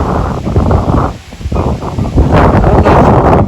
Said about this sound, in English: Now we're getting some bigger gusts of wind now.